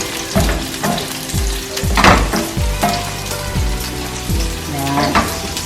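Onions frying in a pan for pork steak, a loud continuous sizzle with repeated scraping stirs and clinks of a utensil against the pan.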